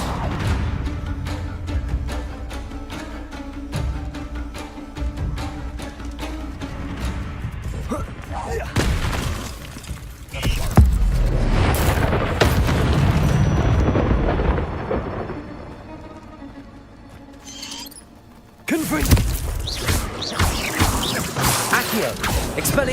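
Incendio fire spell from the Hogwarts Legacy video game, whooshing bursts and crashing impacts amid busy combat noise, with a loud surge in the middle, a brief lull, then a fresh burst of activity.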